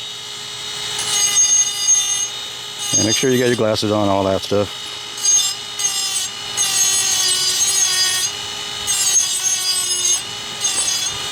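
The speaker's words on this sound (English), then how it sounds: "You just kind of drill it to, you just grind it to your preference." An electric grinder whines steadily as it grinds down the steel choil of a homemade survival axe, a sustained tonal drone with a brief, louder rough burst partway through and someone talking over it.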